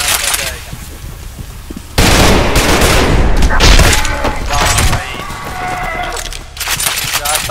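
Bursts of rapid automatic gunfire and heavy shots fill a first-person shooter game, loud and dense, with thuds and mechanical clatter and a brief quieter stretch before firing resumes.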